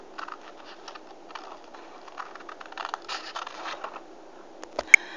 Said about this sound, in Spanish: Lo vamos a recortar con las tijeras normales, ¿vale? Con estas tijeras.